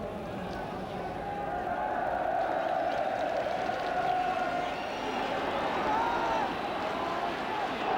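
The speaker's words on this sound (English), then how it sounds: "You can probably hear from the crowd, they're singing Land of My Fathers." Football crowd at a Wales v England match singing Land of My Fathers, a broad sustained roar of many voices with a rising and falling melodic swell, steady and loud throughout.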